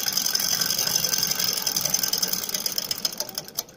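A sewing machine stitches a shirt, running in a steady fast mechanical whir with rapid ticking close by, then slowing into separate clicks near the end.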